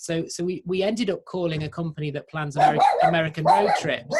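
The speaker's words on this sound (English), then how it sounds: "Apologies for the dog." A dog barks and yips in short bursts in the background while a person keeps talking over it.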